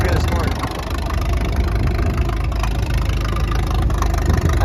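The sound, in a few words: John Deere antique tractor engine idling while warming up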